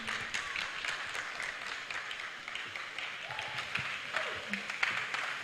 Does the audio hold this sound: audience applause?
yes